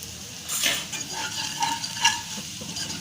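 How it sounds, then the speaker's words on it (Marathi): Garlic and turmeric fry in oil in a pan while a utensil stirs them: a continuous close sizzle with soft scraping strokes and a few louder swells. "लसूण थोडासा भाजून घेत घ्यायचा आता हळद घालूया"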